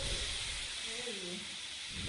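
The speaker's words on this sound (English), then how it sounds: "Steam leak detected in area." Steam leak in the video game Lethal Company, a broad continuous hiss filling the clip at steady loudness, with a voice briefly murmuring underneath.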